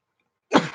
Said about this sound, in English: I don't know why I'm sneezing suddenly